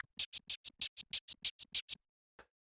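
DJ controller scratching with the crossfader set to a gradual curve, a steady string of about eleven evenly spaced, softer-edged scratch strokes, then a pause and one last stroke, fairly quiet and solo.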